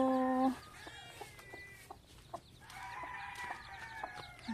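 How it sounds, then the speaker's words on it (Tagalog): Chickens and chicks clucking and peeping on a farm, with a rooster's crow cut short at the start, then steady overlapping clucks and chirps at moderate distance. "Daming sisiw na naman tayo."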